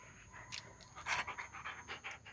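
A dog pants in quick, soft, rhythmic breaths close by, steady for a couple of seconds with no other sounds.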